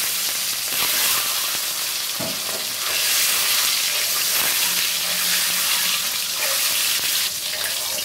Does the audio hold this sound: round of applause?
no